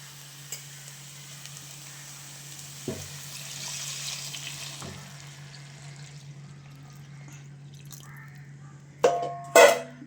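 Tamarind water poured into sizzling garlic curry (poondu kulambu) in a pan: a quiet steady simmering hiss with a few faint clinks, then a brief louder splashing pour near the end, with no talking.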